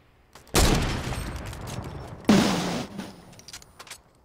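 SMG gunfire in Fortnite Battle Royale, two loud bursts of rapid shots a couple of seconds apart, followed by scattered fainter pops.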